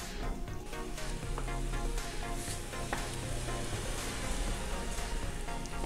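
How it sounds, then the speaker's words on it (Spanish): A quinoa and cinnamon drink heating toward a boil in a pot, giving a steady, dense sizzling and bubbling hiss that runs continuously without pause. "vamos a dejar que esto hierva hasta que suelte la canela todo su sabor"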